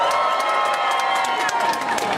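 A graduation audience at a Cal Berkeley ceremony cheers and shouts steadily, a dense, continuous roar of many voices that stays loud the whole time.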